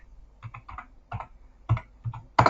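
Computer keyboard typing into an online form: a few quick, close, distinct key clicks in an irregular rhythm, ending with a sharper, louder keystroke.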